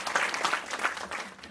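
Graduates at a university degree ceremony applaud themselves, a brief burst of dense, steady clapping from a crowd heard over a short moment.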